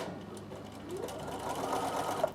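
A sewing machine runs steadily and fairly faintly on a Christmas table runner, a continuous soft whirring hum with no pauses.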